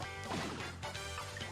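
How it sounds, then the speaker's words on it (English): A hammer swing smashes four Goombas in Paper Mario The Origami King, one short loud crashing impact backed by bright game music. "You smashed all 4 Goombas with a single swing."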